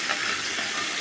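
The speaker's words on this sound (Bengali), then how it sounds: "মাছটা ভেজে নিতেছি" Catla fish frying in a pan on an induction cooktop, giving a steady, close, continuous sizzle and hiss with no talking.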